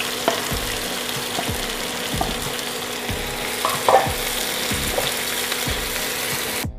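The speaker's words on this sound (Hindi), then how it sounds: "2 बारीक कटी हुई प्याज ऐड करते हैं, हल्का फ्राई कर लेते हैं।" Finely chopped onions and green chillies frying in a pan over medium heat, a steady broadband sizzle with a regular series of low stirring knocks and scrapes, close and continuous without speech.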